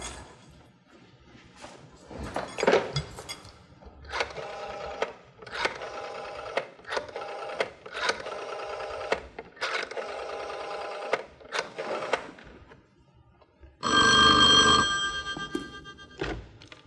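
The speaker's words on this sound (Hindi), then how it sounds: "फोन करती हूँ इसको।" A telephone rings in repeated bursts with short gaps between them, fairly close, followed by a louder tone near the end.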